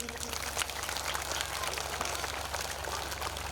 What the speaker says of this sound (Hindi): वेरी गुड, वेरी गुड, ताली बजाएं फिर